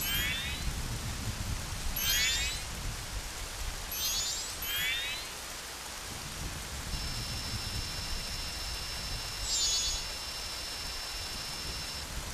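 Night rain falls steadily and densely in the Majora's Mask video game, with a few rising chime-like game tones layered over the downpour.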